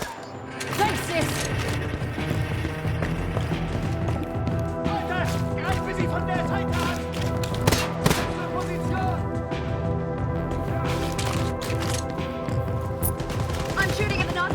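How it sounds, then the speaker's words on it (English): Machine pistol fire in Wolfenstein Youngblood crackles in rapid, repeated bursts throughout, sharp cracks layered over a dense, continuous game soundscape. "I'm shooting at the Nazi commander."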